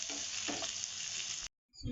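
Onion and garlic frying in a pan until browned, a loud steady sizzle with bubbling crackle and a couple of stirring scrapes, then cutting off abruptly into silence before a faint clatter.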